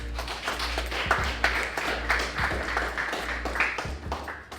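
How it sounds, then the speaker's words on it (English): Audience clapping to welcome a performer onto the stage at a Q&A event in Detroit, a steady wash of hand claps with a few sharper claps poking through over a low background hum. "So without further ado, Sony Blakk, clap it up."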